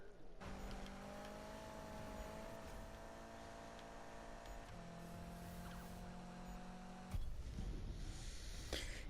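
A Corvette Z06 races in Need for Speed 2015, a steady engine drone rising through gears with a shift and a harsher burst near the end, with no talk.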